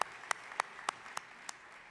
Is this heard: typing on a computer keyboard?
no